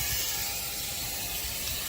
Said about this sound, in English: This is the vacuum pump.